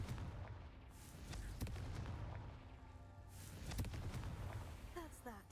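A Confringo fire spell cast in the video game Hogwarts Legacy sets off booming explosive blasts and crackling impacts over game effects, while a person talks over the action.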